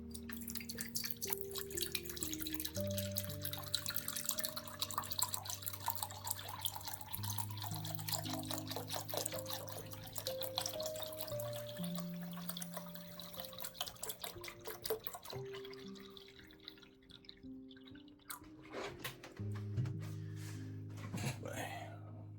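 Water poured from a container into an ultrasonic vinyl record cleaner tank, a continuous close splashing and gurgling stream whose pitch rises as it fills, easing off near the end.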